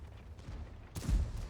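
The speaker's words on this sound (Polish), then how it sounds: "Jest pierwszy strzał." A single tank gun shot in a video game lands near the end as a short, deep boom with a sharp attack over a low rumbling background.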